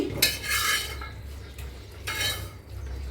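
Dishes and utensils are washed at a home kitchen sink after cutting fish, with faint clinks and scraping in two short bursts over running water and low background noise.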